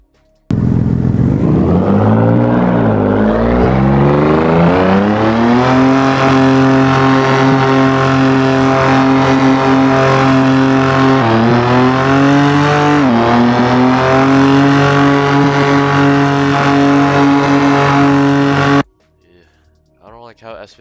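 A BMW S55 engine sound mod from the exterior: a loud, sustained rev that climbs sharply, holds a steady buzzing drone with small wavers, then cuts off abruptly into near silence.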